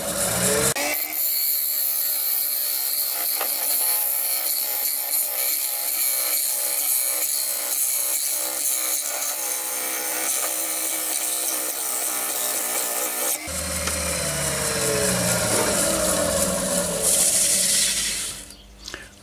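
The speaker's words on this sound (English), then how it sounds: "to cut it in half with a thin parting tool" A thin parting tool cuts into an ash platter spinning on a woodturning lathe, giving a loud, continuous scraping whine that shifts to a rougher, lower grind near the end.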